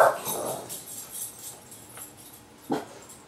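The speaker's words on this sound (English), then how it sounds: "the dogs think there's somebody else here." Indoor dogs whimper with high, drawn-out whines, then let out one short, sharp yip, fairly close and with no talking.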